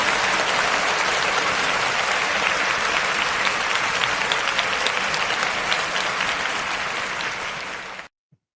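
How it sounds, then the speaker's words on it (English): Dense, sustained applause from a crowd, steady and fairly loud for about eight seconds before cutting off abruptly into silence. "let's give them a round of applause"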